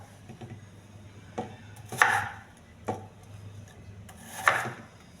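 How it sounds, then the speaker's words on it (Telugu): An apple is cut into small pieces on a board, with a few sharp, distinct chops spaced out at close range and no talk. "యాపిల్ కూడా చిన్నగా కట్ చేసుకోవాలి."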